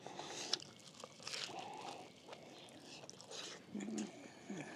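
Biting into a steak sandwich on garlic-butter sourdough Texas toast with cheese and rare steak, giving a few soft crunchy bites and chewing sounds close up at low level, with faint background noise.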